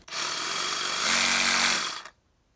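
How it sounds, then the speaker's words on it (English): A Milwaukee Hackzall reciprocating saw fitted with a homemade massager attachment runs in one close, loud burst of about two seconds, buzzing with a rapid mechanical rattle that deepens partway through, then cuts off abruptly. "The Milwaukee Hackzall massager."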